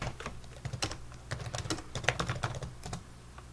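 Quick bursts of keystrokes on a computer keyboard while a command is entered for an Ubuntu Linux install, irregular clicks close up and fairly quiet, with no voices.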